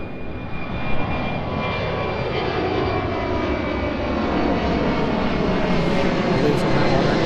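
A large aircraft climbs away after takeoff at East Midlands Airport, a loud, continuous engine roar that holds steady and broad as it gains height, with voices talking over it.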